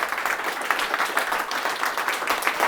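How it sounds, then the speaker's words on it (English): A room of attendees at a data science and machine learning talk breaks into lively applause, many hands clapping in a dense, fluctuating burst that stays loud and close for the whole stretch. "Massive round of applause for Ian."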